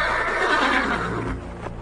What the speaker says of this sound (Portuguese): Olhei e vi um cavalo preto.